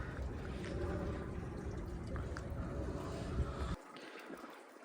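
Radiator cooling fan of a 2018 Mercedes GLA 250 running steadily, a loud broadband whoosh close by that cuts off abruptly near the end, leaving a quieter hum.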